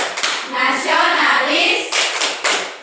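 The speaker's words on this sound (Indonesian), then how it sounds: "Setelah kita melakukan tepuk PPK untuk meningkatkan jiwa nasionalisme kita" A group of schoolchildren claps the tepuk PPK routine in a loud, rhythmic pattern of bursts, chanting together in unison between and over the claps.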